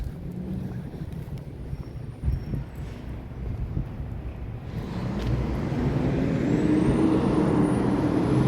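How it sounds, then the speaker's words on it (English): A fertilizer or compost truck passes on a city street at night in Montreal, its low engine rumble building steadily from faint to fairly loud over the second half. "Fertilizer truck, I think, or compost truck"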